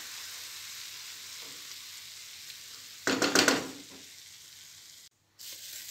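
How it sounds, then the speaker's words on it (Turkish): Sliced leeks sautéing in a pan on the stove, a steady soft sizzle with a brief louder crackling burst midway, then a short gap before the frying resumes. "pırasamız suyunu çekene kadar bakın şöyle ocakta pişirmeye devam ettim"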